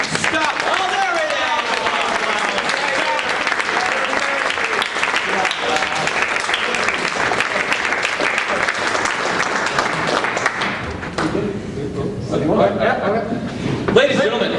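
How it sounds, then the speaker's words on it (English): Sustained, loud applause fills a theatre after a Shakespeare show, dense clapping from a large audience that thins slightly toward the end as a voice begins. "Oh, I must have really liked that. Clapping so much."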